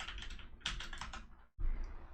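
Quick computer keyboard keystrokes for a copy and paste shortcut, a handful of close, soft clicks in two short bursts separated by a brief silence.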